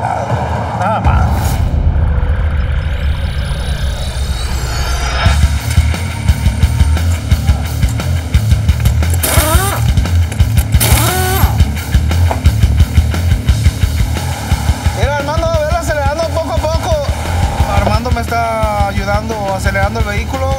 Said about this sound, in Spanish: Acelerando el vehículo, tratando de mantenérmelo donde marca la vibración.